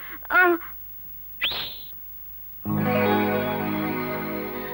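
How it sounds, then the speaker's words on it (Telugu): Two short rising whistle chirps, a pause, then a loud, sustained whistle tone that holds steadily to the end. "3వ విజిల్ వేసేస్తా."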